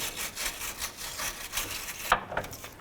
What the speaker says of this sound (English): we're going to use a wire brush to try and clean off the head of our rusty bolt here